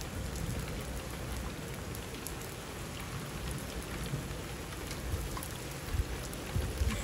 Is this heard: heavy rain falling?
yes